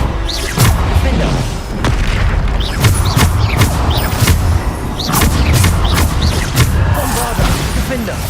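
Bombarda spell explosions in Hogwarts Legacy: repeated loud booms and crashing blasts at irregular intervals, close and forceful, mixed with battle clatter and spoken voices underneath.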